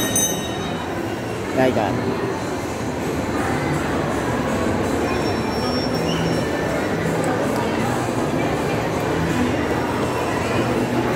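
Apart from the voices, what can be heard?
train passing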